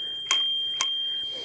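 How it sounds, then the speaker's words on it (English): The handlebar bell on a Himiway Zebra e-bike gives three bright, quick dings close by, each with a short ringing tail, spaced about half a second apart. "you've got a bell"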